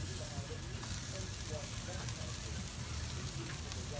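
Boneless skinless chicken thighs sizzle on a barbecue grill, a continuous soft crackling hiss at moderate distance, steady for several seconds.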